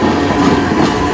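Freight train hauling many tank cars rolls past at night, a steady loud rumble with clattering wheels and continuous rail noise throughout, no voices.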